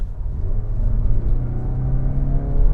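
A 2021 Mazda CX-30 GT floored from 50 on the road, with a loud, close engine rumble that swells as it accelerates and a rising whir throughout, no speech.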